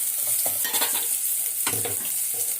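Ground masala sautés in a pan for kollu rasam, with a continuous close sizzle and repeated scraping stirs.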